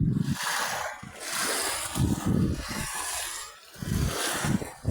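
Sea waves surge and splash at a beach in Pangasinan, with repeated loud rolling washes arriving in rhythmic pulses, heard close as if standing in the water.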